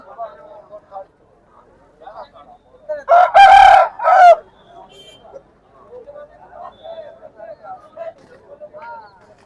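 A rooster lets out one loud crow midway, standing out over scattered clucking and voices talking in the background at a Saturday country chicken market.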